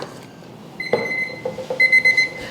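A kitchen timer alarm on a capsule coffee machine setup beeps in a quick repeating pattern after a 25-second countdown, close and fairly loud, with brief handling knocks mixed in.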